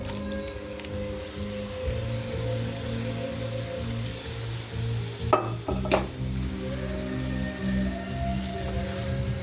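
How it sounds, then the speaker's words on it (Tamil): Pre-cooked meat fries and is stirred in a pan, a steady low sizzle broken by a couple of sharp scrapes of the spoon midway, with no voices. "நல்லா இதில் ஃப்ரை பண்ணலாம்"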